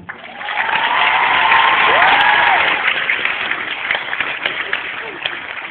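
An audience at a Liège student ceremony applauds the students, a dense sustained clapping that swells and then thins into scattered claps over several seconds.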